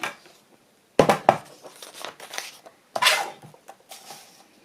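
A sheet of decorative patterned paper being cut down to size for a papercraft pocket project, giving irregular crisp rustling and snipping bursts with short pauses, close and fairly quiet, with no talking.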